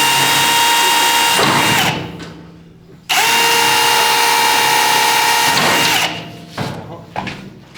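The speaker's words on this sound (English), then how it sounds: "by drilling out the crack here, and he's gonna weld over it" A power drill runs in two loud, steady bursts with a pause between, drilling out a crack in a custom-built truck tank, ending in a few short rattling knocks.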